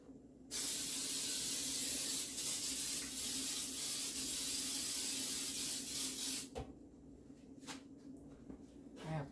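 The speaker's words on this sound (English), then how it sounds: "Go over here by the sink and spray this." Baker's Joy baking spray hisses onto a cookie sheet beside a kitchen sink in one long, loud, continuous burst of about six seconds, followed by a few faint clicks and shuffles.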